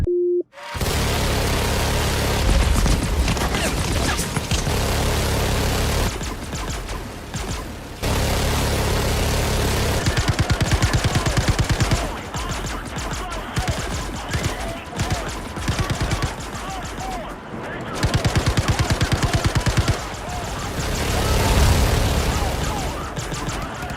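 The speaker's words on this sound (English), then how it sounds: "Suppressing fire on my mark" Sustained suppressing gunfire in the Star Citizen video game: loud, dense bursts of automatic fire and booms running almost continuously for the whole stretch, with brief lulls between volleys.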